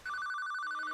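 A mobile phone rings in the PSP game Shadow of Destiny, a steady, bright electronic ringtone that starts abruptly and holds unbroken and clear for about a second.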